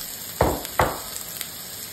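Garlic, scallion, dried chilies and green and red peppers tossed in a hot wok for dry-pot potato slices: two sharp sizzling bursts of stir-frying about half a second apart, then a low simmering hiss with faint clinks.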